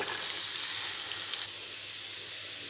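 Chopped radish sautéing in a pan, a soft steady hiss and sizzle that eases slightly partway through, close with no voices.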